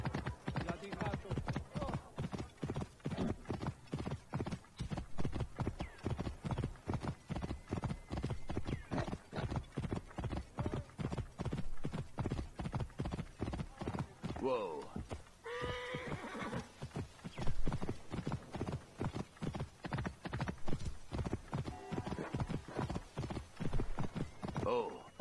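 Horse hooves clip-clop steadily in the Assassin's Creed Origins video game, a continuous rhythmic trot with occasional whinnies, heard under someone talking throughout.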